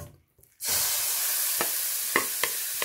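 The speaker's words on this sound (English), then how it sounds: "Now take a pan and this keema mixture, add it to the pan." Keema mixture sizzling in a hot pan with no added oil, a sudden loud hiss starting as it goes in and then holding steady, with a few soft scrapes as it is spread.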